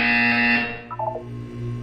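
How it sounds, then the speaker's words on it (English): A buzzer in the video game Portal 2 sounds as a loud, sustained electronic tone that cuts off after about half a second, followed by a few quieter chirping electronic blips. "When you hear the buzzer, look up at the ceiling."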